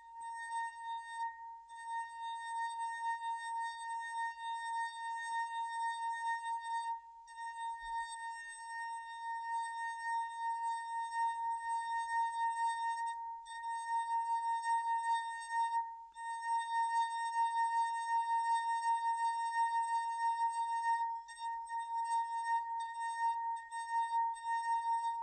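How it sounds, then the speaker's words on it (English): A drinking glass played by rubbing its rim gives a sustained, pure ringing tone with steady overtones, humming continuously and fairly loud for the whole stretch with only brief dips, no talking. "So watch what happens when I start playing the second glass."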